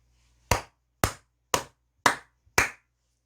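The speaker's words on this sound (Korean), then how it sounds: "크게 박수 한번 치고 가도록 하겠습니다." Five sharp, evenly spaced single hand claps from one person, each a loud, crisp slap about half a second apart, standing alone in a quiet room with no talk.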